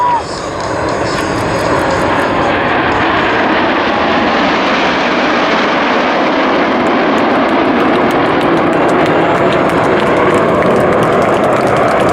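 RAF Red Arrows jets at an air show in the USA roar loudly and continuously as they run in to recover to the airfield. The broad engine noise holds steady throughout while a commentator talks over it.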